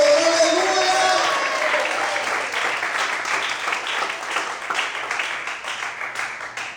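Worshippers in a church congregation break into broad applause, a thick wash of clapping that starts loud with a voice over it briefly, then gradually thins and fades.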